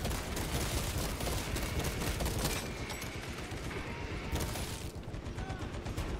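A tank fires in a Space Marine 2 battle, a dense, continuous rattle of rapid gunfire and mechanical clatter that stays loud throughout and thins out briefly near the end.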